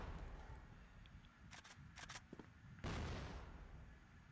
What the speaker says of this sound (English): oh, bit of an exchange on the snipers